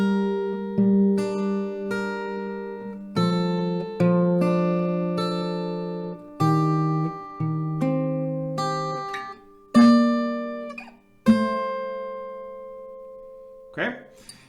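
Acoustic guitar picks through a section of Kygo and Avicii's Forever Yours slowly and alone, individual plucked notes and small chords ringing out one after another with pauses between phrases.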